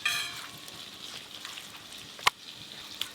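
Potatoes frying in mustard oil in a pan, a steady soft sizzle throughout with a couple of sharp utensil clicks near the end, close and moderately quiet, no talking.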